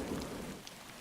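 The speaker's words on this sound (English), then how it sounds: "thunder and lightning drown out the relentless beating rain." Heavy rain pours steadily in a thunderstorm near Chernobyl, a dense continuous wash with a low rumbling undertone, heard briefly and alone.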